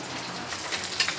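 Tomato garlic paste sizzles and crackles steadily in hot oil in a pan, with a couple of sharper spits near the end.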